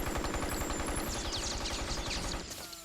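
Rapid automatic gunfire from the video game Metal Gear Solid: Portable Ops, a dense sustained burst of shots with metallic pings and clatter, loud and close, tapering off near the end.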